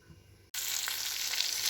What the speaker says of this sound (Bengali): এখানে কটা মাছ ভাজা করছি